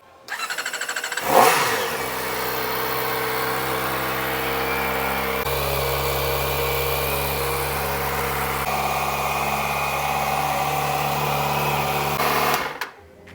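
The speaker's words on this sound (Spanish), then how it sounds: "a petición de ustedes vamos a grabar el sonido de motor" A Kawasaki Ninja ZX-4RR 400 sport motorcycle engine starts with a sharp rev, then holds a steady high-pitched idle and rising revs for several seconds before cutting off.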